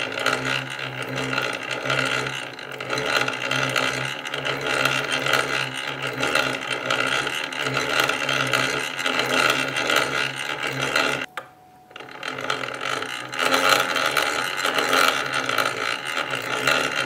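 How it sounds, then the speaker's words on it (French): An antique sewing machine from 1880 running continuously, a loud steady mechanical whirr and rattle of gears and moving parts that stops briefly and then resumes. "j'ai décidé de m'accompagner de ma fidèle machine à coudre de 1880"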